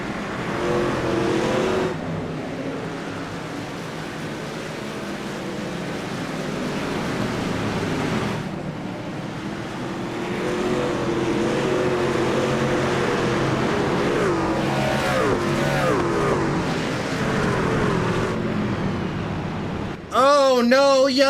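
Race trucks roar around Martinsville in a racing video game, a continuous engine drone with shifting pitch as the pack circles, building louder near the end with a sharp high whine.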